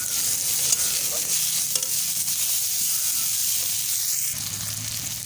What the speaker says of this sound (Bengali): মাছের তেলের মধ্যে এবারে পেঁয়াজগুলো দিয়ে দেবো, দিয়ে ভালো করে লাল লাল করে ভেজে নেব